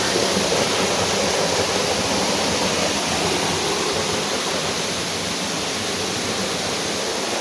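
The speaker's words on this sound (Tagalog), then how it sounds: "narating ko rin po ang falls na tinatawag nila dito po sa Ibahay" Tublihon Falls waterfall, a dense, steady rushing roar of falling water heard close up and loud, with no other sounds over it.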